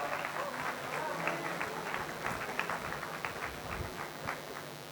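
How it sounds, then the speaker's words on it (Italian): Audience at a conference hall event in Cagliari applauding flute, clarinet and oboe musicians, with steady dense clapping throughout at moderate distance. "Un grande applauso."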